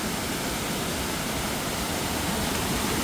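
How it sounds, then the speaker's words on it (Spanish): The swollen Mojaflores river thunders over a waterfall in flood during heavy rains in El Salvador, a loud, dense, unbroken roar heard up close with no voices. "ya les compartí la impresionante vista del río Moja Flores acá en esta bonita cascada,"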